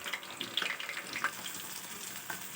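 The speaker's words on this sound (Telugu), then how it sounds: "ఫ్రై అవుతున్నాయి, మంచిగా ఫ్రై కావాలి." Fish fries in a pan of oil with a steady, moderately quiet sizzle and scattered small pops and crackles.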